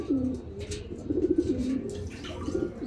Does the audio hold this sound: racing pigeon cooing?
yes